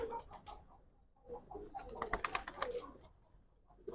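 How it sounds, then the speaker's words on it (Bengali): Giribaz pigeons, a Bangladeshi flying breed, coo softly and faintly in a few low murmuring bursts, mixed with light ticking and handling noises close by. "কবুতর দেখেন।"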